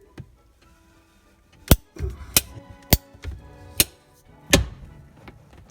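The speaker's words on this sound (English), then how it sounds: "I'm cutting out the old pipe. I got a PVC cutter here." A ratcheting PVC pipe cutter biting into old PVC pipe inside a wall gives a handful of sharp, close snaps and clicks spaced irregularly over a few seconds, with quieter handling noise between them.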